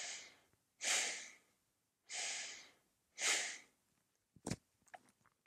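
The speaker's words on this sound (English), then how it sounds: "Chest breathing." Chest breathing exercise: four slow, deep breaths, each a loud airy inhale or exhale separated by short pauses, close to the mic, followed by a brief sharp sniff and small mouth noises.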